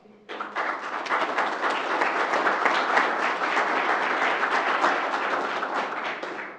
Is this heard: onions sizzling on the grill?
no